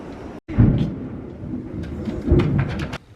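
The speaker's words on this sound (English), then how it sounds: "This is the second or third big thunderstorm here in a week." Thunder rumbles low and heavy during a thunderstorm, two deep rolling swells separated by a brief sharp gap, with rain noise underneath.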